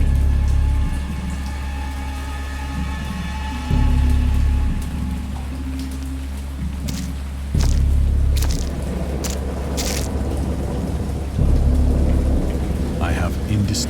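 A thunderstorm rages in an H.P. Lovecraft horror video game, with steady heavy rain pattering throughout and deep thunder rumbling in repeatedly every few seconds.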